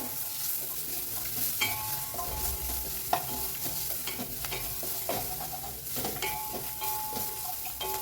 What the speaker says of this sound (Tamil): ஒரு 2 நிமிஷம் நல்லா இது ஃப்ரை ஆகணும்